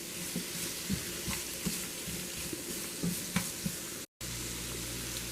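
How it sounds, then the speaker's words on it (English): Thyme sprigs and aromatics sizzle steadily in a hot pan while a utensil stirs them, with soft scraping strokes recurring every second or so over the frying, followed by a brief cut to near silence and a quieter, steadier sizzle. "just give that a little stir so everything cooks evenly"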